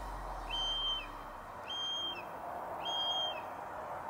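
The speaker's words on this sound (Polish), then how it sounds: "Słyszycie? To jest jastrząb." Three high, thin descending calls ring out at even intervals over a steady outdoor hiss, each a drawn-out whistling screech from a bird of prey.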